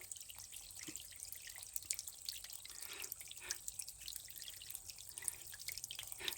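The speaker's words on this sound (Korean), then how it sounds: "물소리가 참 시원합니다." A mountain stream trickles steadily with soft babbling and scattered drips. It is faint and continuous, with no voices.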